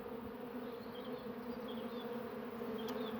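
Honey bees hum in a steady, dense drone around a hive on a warm spring day, a continuous close buzz with no voices.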